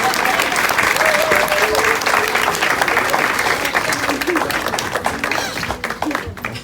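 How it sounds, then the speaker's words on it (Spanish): A church congregation claps loudly in a steady, dense wave of applause that tapers slightly toward the end, with voices briefly heard under the clapping. "Un aplauso a estos hermanitos."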